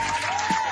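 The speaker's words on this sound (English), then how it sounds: "let me give myself an applause" Applause heard briefly at the start of a Texans podcast episode, a short dense patter of clapping with a steady tone running beneath it and a voice cutting in near the middle.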